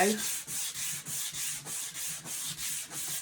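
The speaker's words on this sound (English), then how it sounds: "This is a technique called wet sanding" A sanding sponge wet-sands a painted wooden blanket box in rapid back-and-forth strokes, about eleven rhythmic scrubbing passes, close and even, with no talking.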